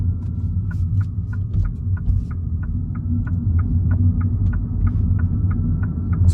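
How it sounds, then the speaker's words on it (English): Tyre road noise fills the cabin of a 2022 Mini Cooper SE electric car as a steady, low rumble, with a faint regular ticking running through it. "All you're hearing now is a bit of road noise from the tyres."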